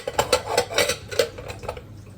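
Plates and cutlery clatter and clink in a home kitchen stacked with dirty dishes, a quick series of close, bright ceramic knocks that thin out toward the end, with no talk.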